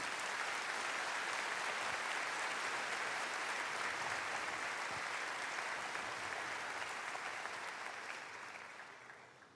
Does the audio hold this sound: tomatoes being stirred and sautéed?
no